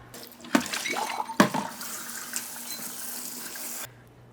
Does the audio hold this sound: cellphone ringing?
no